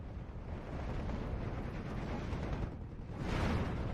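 Off-map strike explosions in Steel Division 2, a continuous heavy rumbling barrage of blasts that swells louder toward the end, with no voices.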